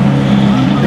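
A Mercedes SLS sports car roars past, a brief loud steady engine note from close by.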